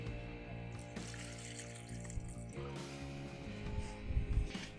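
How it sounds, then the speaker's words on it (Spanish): Water drains from a paint sprayer hose with a soft, continuous trickle and gurgle, close by over a low mechanical hum, swelling slightly toward the end. "y sacamos el agua"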